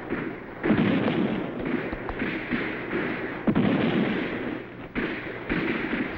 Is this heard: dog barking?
no